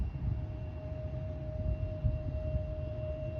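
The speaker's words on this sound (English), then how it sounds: "we just had a Air Force KC-10 flyover" An Air Force KC-10 flies over near Cleveland on a foggy, overcast evening, producing a faint, steady low rumble of distant jet engines with a thin constant hum on top.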